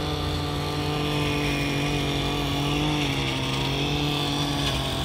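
A grass cutter running in a Jerusalem garden, a continuous steady engine drone with no breaks, heard at moderate distance outdoors.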